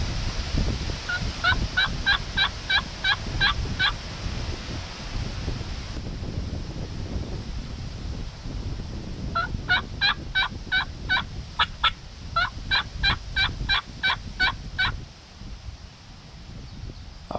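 A wild turkey gobbler strutting in a field with hens gobbles in several rapid bursts, moderately distant, with wind buffeting the microphone throughout.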